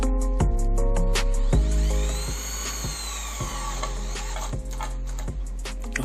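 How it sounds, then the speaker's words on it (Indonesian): A DCA AJZ01-6A electric drill with a 6 mm chuck drives a roofing screw through a roofing bit into a light steel C-channel. The motor whines steadily while its pitch and load pulse unevenly, and a rough grinding rattles underneath. "saya akan coba untuk memasang baut baja ringan atau baut roofing menggunakan mata roofing seperti ini"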